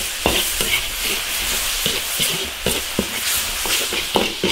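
Pig brains with chili oil, soy sauce and chopped chilies stir-fried in an iron wok sizzle loudly and steadily, broken by regular spatula scrapes and knocks close by.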